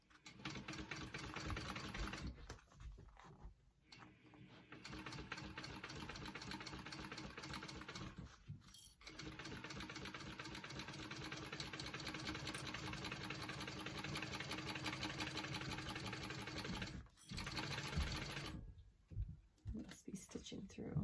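A sewing machine stitches through the layers of a Cici tote bag with a steady mechanical whir, running continuously with short pauses; a voice talks over parts of it.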